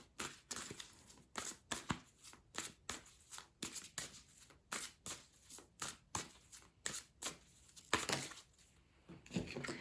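A deck of tarot cards is shuffled by hand at close range, a rapid series of soft riffling, flapping bursts repeating in an uneven rhythm, quiet and without talk.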